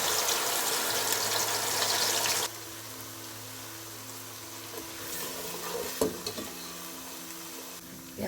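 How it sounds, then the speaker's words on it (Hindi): Ground onion frying in hot ghee with cinnamon, bay leaf and black cardamom: a loud, dense sizzle fills the first couple of seconds, then drops to a quieter steady crackle with occasional stirring clinks. "प्याज की भुनाई होगी"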